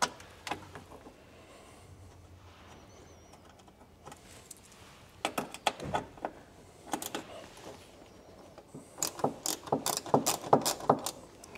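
Ratchet tightening a bolt on the front grille of a Dacia Sandero Stepway III or Jogger, giving irregular bursts of close, sharp clicking with pauses between them, louder toward the end.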